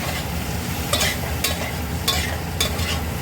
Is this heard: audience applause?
no